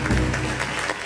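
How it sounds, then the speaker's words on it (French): A brief burst of studio applause on a call-in entertainment show, loud and dense, a steady wash of clapping lasting about a second with no voices over it. "Hey, on applaudissait pour Mariam."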